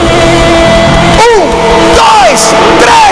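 A large congregation at a packed worship event roars and yells together, a loud continuous wall of crowd noise with rising whoops sweeping over it.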